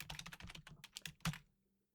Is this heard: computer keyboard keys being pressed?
yes